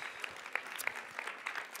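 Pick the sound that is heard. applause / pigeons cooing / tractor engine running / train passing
applause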